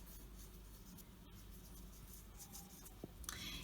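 A pen writes words on paper, faint scratchy strokes close to the microphone against a quiet hiss, with a small tap near the end.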